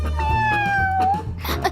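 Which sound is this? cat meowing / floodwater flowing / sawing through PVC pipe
cat meowing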